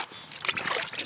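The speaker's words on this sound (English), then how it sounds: "Get that dumped in the water." 3000-grit sandpaper for headlight restoration is dropped into water, giving a short, close splash and slosh that lasts about a second.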